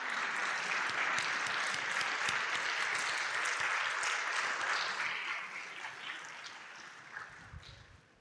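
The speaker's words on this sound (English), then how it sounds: "so that we can give you another round of applause" A large ceremony audience at a European collegiate programming contest claps in a dense, sustained wash that gradually thins and fades toward the end, with a few scattered claps lingering.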